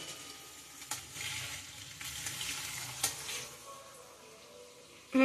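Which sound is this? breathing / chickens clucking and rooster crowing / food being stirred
food being stirred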